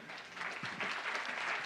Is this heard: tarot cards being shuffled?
no